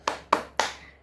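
Three sharp hand claps, evenly spaced and close, come from children clapping a five-senses clap chant in a classroom lesson, with no talk over them.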